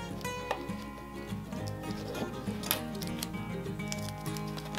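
A razor blade slices through material wrapped for fly fishing, giving a run of small, close scratchy cuts and ticks over a steady low background hum.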